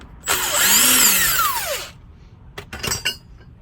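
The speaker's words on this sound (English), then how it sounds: "you only have to remove the remaining bolts right here." A power drill removes bolts from a Chevy Colorado wheel hub. It whines loud and close for about a second and a half, its pitch sliding as it spins, then stops. Brief metallic clatters follow as the bolts are handled.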